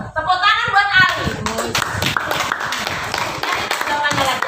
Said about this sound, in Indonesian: Tepuk tangan apa?